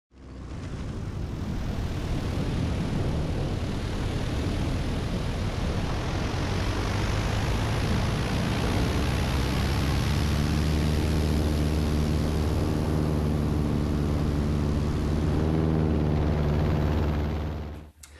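A Bearhawk light aircraft's engine holds a loud, continuous drone during a spin recovery, with a steady rushing roar that later settles into a more tonal propeller hum before cutting off.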